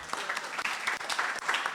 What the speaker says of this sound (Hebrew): אפשר כפיים למי שנמצא